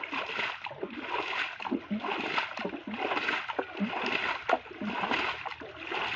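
Diluted calcium lime is flung into a pond in repeated splashing sweeps, rhythmic watery splatters rising and falling every second or so, fairly close and moderately loud.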